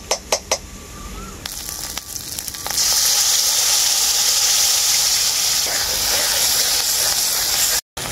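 Green chili paste sizzles loudly in a hot pan, with cashew paste added, after a few sharp clinks of a utensil, then a steady close frying hiss.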